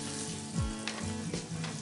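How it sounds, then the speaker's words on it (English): Paneer cubes shallow frying in oil in a pan for paneer chilli, a steady close sizzle with brief stirring scrapes, heard alone. "paneer is shallow fried and this is yellowish and goldenish"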